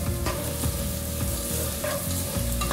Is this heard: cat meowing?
no